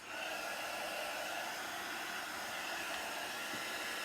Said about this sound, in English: I'm just going to use my dryer to blow that dust off